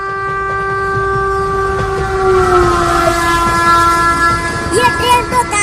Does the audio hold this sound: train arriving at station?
yes